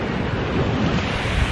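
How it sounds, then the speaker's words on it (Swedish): Surf washing onto a beach, a steady broadband rush of waves mixed with wind buffeting the microphone, close and fairly loud throughout with no talking. "Vi är på stranden."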